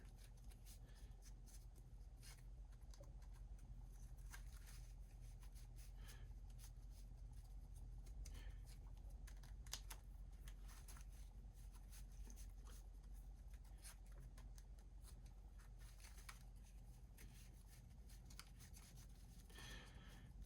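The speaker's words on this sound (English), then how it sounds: "get a good shuffle here." Yu-Gi-Oh trading cards being shuffled by hand, a steady close-up riffle and rub of card stock over a low constant background hum, no voices.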